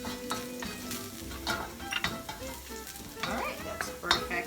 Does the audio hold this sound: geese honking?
no